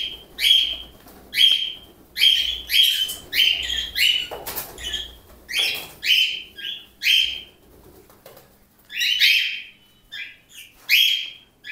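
Pet cockatiels loose indoors give repeated sharp, loud chirps and calls in bursts through the whole stretch, close by, with no talking.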